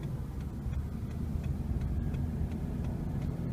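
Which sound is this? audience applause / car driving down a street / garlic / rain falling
car driving down a street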